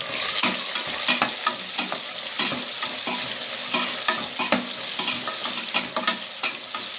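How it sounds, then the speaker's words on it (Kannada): Masala spices fry in oil for egg biryani: a steady close sizzle broken by frequent scraping and clinking from a spoon stirring the pan. "ಮಸಾಲೆಲ್ಲ ಸ್ವಲ್ಪ ಎಣ್ಣೆಗೆ ಹುರ್ಕೊತಾ ಇದ್ದೀನಿ"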